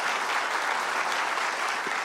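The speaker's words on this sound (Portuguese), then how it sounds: "Ajuda os irmãos a aplaudir ali na esquerda." A church congregation applauds during a sermon, a steady, dense wash of clapping from many hands that holds at an even level throughout.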